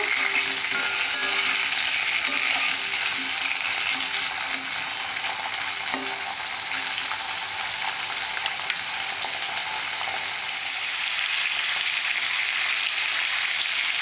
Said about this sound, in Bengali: প্রথমে আলুগুলোকে হালকা করে ভেজে নেব